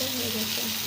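Pointed gourd (potol) fries in a pan for under a second, a steady close sizzle with a faint tonal hum underneath and no voices.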